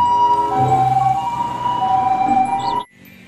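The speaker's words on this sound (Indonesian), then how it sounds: "Ada mobil ambulans." A toy ambulance siren wails in a continuous electronic tone, loud and close, running steadily for nearly three seconds before cutting off abruptly into near silence.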